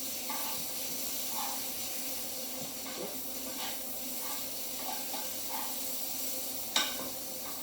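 Bread toasting in a pan with lamb, peppers and onions, a soft continuous hiss and gentle sizzle with light scraping stirs and one sharper clink near the end, fairly quiet and without voices.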